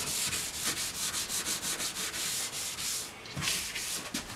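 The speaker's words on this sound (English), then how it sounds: "I'm just going to take some Scotch-Brite and just give everything a clean up." Scuffing a wooden coffee table's finish with a Scotch-Brite pad between coats gives steady, rhythmic abrasive rubbing strokes, close and continuous, with a brief pause before the strokes resume.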